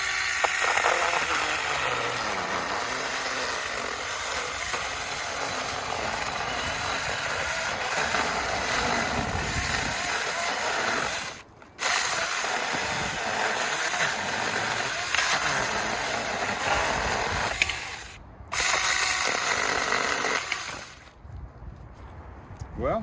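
A Saker mini chainsaw runs at a loud, steady buzzing whine while cutting through an old, dry hickory log about 4 to 5 inches thick, briefly dropping out twice before stopping near the end.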